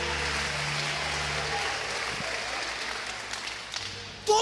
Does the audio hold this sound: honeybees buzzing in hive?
no